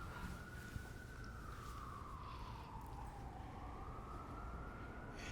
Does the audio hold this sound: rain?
no